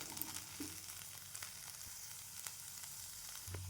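Green peas roast in a pan, giving a faint, steady sizzle with scattered small crackles and light stirring scrapes, close by and with no talking.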